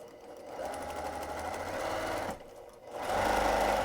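A sewing machine quilts two layers of fabric for an insulated lunch sack, a close, steady whirring hum that runs continuously, dips briefly in a short pause, then resumes faster and louder.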